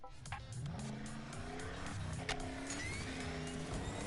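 A truck drives around a custom track in a Hot Wheels Unleashed racing video game, with a continuous engine drone, rising and falling revs and brief tire squeals over steady background noise.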